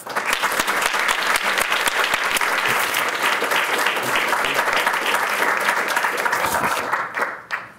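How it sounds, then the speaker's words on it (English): Audience applause greeting a speaker stepping up to talk at a Color of Change event, a dense, loud burst of many hands clapping that holds steady for several seconds before tapering off at the end. "So please help me by giving a round of applause to Rashad Robinson."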